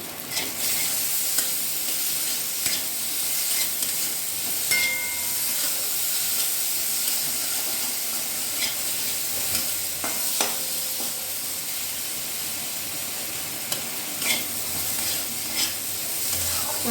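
Chickpea masala with potatoes sautés in a pan, a constant loud hiss and sizzle with scattered clicks and scrapes from stirring.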